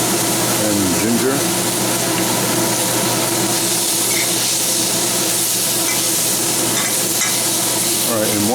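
Garlic and ginger stir-frying with bok choy and mixed vegetables in a hot pan, a steady loud sizzle with scraping stirs throughout, a voice talking over it at times.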